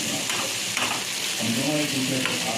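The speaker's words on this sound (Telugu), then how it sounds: "సో అప్పుడు మనం కరివేపాకు వేసుకోవాలి." Curry leaves sizzle in oil with ivy gourd in a spicy stir-fry, a steady crackling hiss broken by scraping stirs, with a faint voice briefly underneath.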